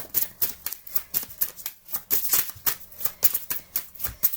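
Tarot cards shuffled by hand, a rapid run of crisp riffling bursts in an uneven rhythm, close and fairly loud, with no talking over it.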